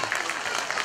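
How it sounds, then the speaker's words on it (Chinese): An audience claps for the kindergarten teachers at a graduation ceremony, a brief burst of dense, lively applause filling the room at close range. "我们再次给我们辛苦的老师掌声鼓励一下"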